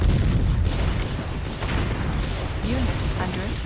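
Heavy cannon fire and explosions in the strategy game Warzone 2100, a dense, continuous rumble of booms with battle noise throughout, with talk over it.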